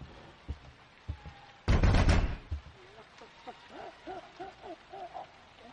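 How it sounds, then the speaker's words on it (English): In a Silent Hills horror audio drama, a few faint knocks give way to one loud, heavy pound on a door that booms for under a second, followed by quieter wavering cries. "suddenly I heard an even harder pound on the door"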